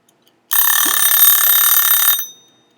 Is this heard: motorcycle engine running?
no